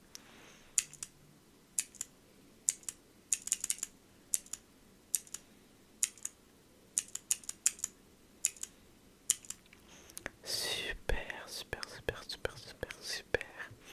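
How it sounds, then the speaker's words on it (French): Quick, crisp taps on a computer keyboard, close and quiet, come in irregular bursts of clicks, then a denser flurry of soft rustling near the end, with no talking. "tu vas devoir compter combien de fois tu m'entends taper sur le clavier"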